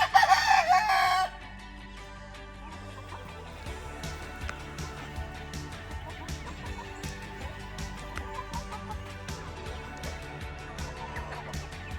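Free-range chickens in summer shade cluck and chatter in a continuous flock murmur, opening with a loud rooster crow in the first second, then steady clucking and scattered calls without speech.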